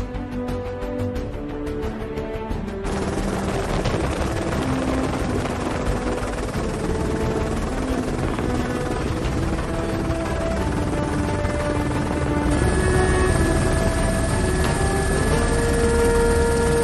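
A police helicopter of the 6th BRAvE flies over during a joint Civil and Military Police operation in Poços de Caldas, its loud steady engine and rotor roar growing fuller partway through and continuing without speech.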